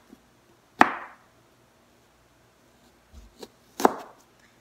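A knife chops through kohila (Lasia spinosa) roots on a board in two sharp, separate strokes with a few lighter taps between them, close and fairly quiet in a still room.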